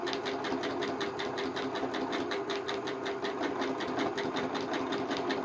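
Close and steady, a sewing machine drives a continuous rhythmic stitch through fabric for free-motion drawing, its needle beating fast and even throughout with no pauses or voices.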